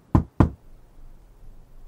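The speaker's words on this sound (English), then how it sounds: "the moment was broken by the demanding sound of three knocks" Three sharp knocks on a door punctuate a dramatic scene in an audio story, the first two loud, close and evenly spaced, the third much softer, over a faint room hush with no voices.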